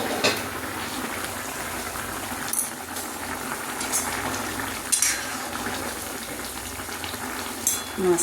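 Hilsa fish fry in a pan with a steady, fairly soft oily sizzle, broken by a few brief clinks of a utensil, with no talk.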